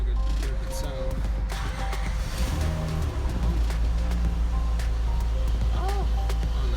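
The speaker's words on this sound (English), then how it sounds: "I'm about to go and start this up. Give it its first start up." A 2002 Honda Odyssey engine runs steadily just after its first start-up following a valve cover gasket replacement, giving a continuous low rumble with some chirps and faint speech mixed in.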